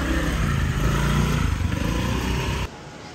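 Motorbike engine running steadily and loud right up close at a parking area in Phuket, Thailand, a rough mid-range drone that cuts off abruptly near the end.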